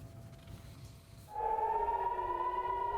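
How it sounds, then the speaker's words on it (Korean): An air raid siren wails across Tel Aviv, rising after a quiet moment into a steady, sustained tone that rings out over the distant city hum. "도시 전체에 사이렌이 울립니다."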